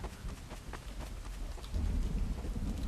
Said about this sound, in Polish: O, nawet deszcz pada.